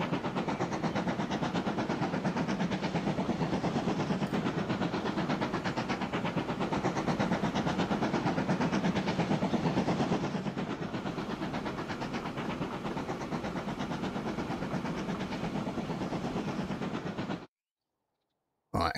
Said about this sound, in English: Show me the speed of my new train.